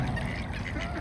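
Ducks quacking on a park lake, a mother duck with ducklings, heard as soft intermittent calls over a steady outdoor background, close by and fairly quiet.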